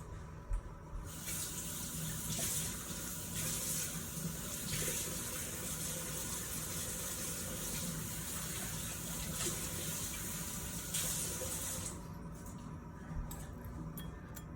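Shrimp rinsed under a kitchen tap: steady running water splashes and hisses continuously at close range, shifting slightly in tone as the food moves under the stream, with no voices.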